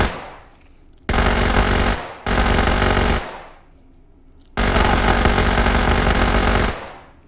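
Sustained automatic gunfire from a heavily recoiling gun in the VR game H3VR, loud and close, coming in three long bursts separated by short pauses, with no talking.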